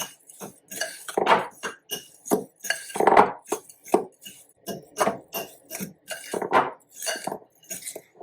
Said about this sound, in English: I'm just using a fork to gently mix that together